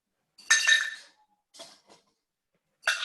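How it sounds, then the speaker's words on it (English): Ice cubes clinking into a glass while a whiskey sour is mixed, in three bright, rattling bursts: a long first pour, a lighter second, and a sharp final clatter. "I've added some ice to the glass."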